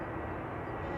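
Airliner jet engines spooling up at Amsterdam Schiphol Airport, a steady, loud broadband roar heard alone for a brief moment.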